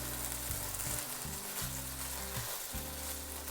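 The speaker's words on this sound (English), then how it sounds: "I'm adding my carrots in now just because they do take a little bit longer to get softer than the rest of my vegetables" Carrot sticks sizzle steadily in a hot pan for a beef stir fry, a continuous close frying hiss with faint stirring and no talking.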